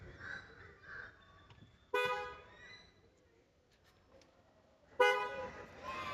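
Bosch Scarlet air horns fitted to a Toyota Fortuner sound two loud, bright honks a few seconds apart, heard close up over quiet idle background.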